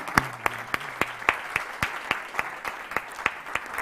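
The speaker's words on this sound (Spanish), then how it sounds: "bueno, aplauso, perdón, para David" Applause at a round-table conference on healthy building products, a fairly sparse, steady patter of hand claps with distinct individual claps ringing out in a fairly regular rhythm, moderately loud in a room with a low hum underneath.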